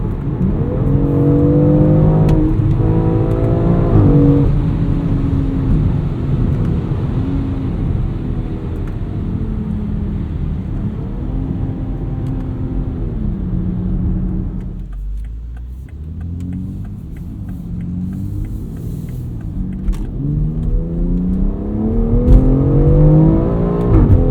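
A 2020 BMW X4 M Competition accelerates hard, its engine revving through rising and falling gear-change sweeps, loud and close, easing briefly mid-run before building again.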